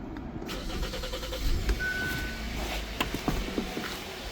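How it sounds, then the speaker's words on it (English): A 2019 Hyundai Sonata's engine cranks and starts after the fuel pump is primed, then runs at a steady idle with a low continuous rumble, fairly close and without talk. "Right now the car is running."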